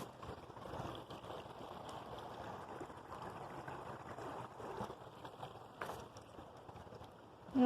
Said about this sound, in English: I don't like the sound of running water.